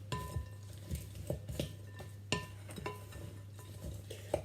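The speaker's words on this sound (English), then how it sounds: "I'm going to just use a wooden spoon just to stir them all together" A wooden spoon stirs coleslaw with mayonnaise in a bowl, giving soft, irregular scrapes and light clinks over a steady low hum, with no talking.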